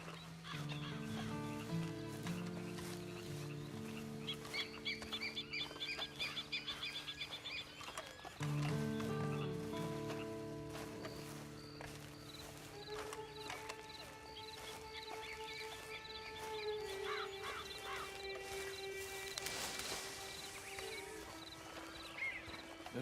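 Horse hooves clip-clop in Red Dead Redemption 2 at low volume, mixed with tonal game music and bird-like calls throughout.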